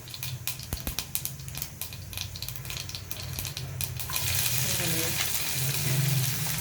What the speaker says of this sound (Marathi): मोहरी तडतडली आपण घालूया जिरं हिंग आणि आपण हा एक कांदा चिरला होता बारीक आहे कांदा